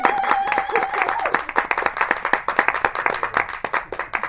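A garden gig audience claps steadily for several seconds, a dense run of hand claps that thins toward the end, with voices talking over it.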